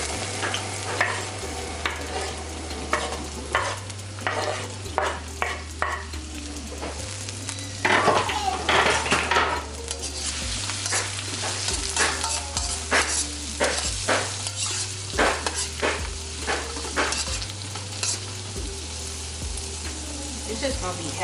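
Meat and vegetables fry in toasted sesame oil in a deep wok, a steady loud sizzle broken by repeated stirring scrapes and clatter, close up, with a low rhythmic hum underneath.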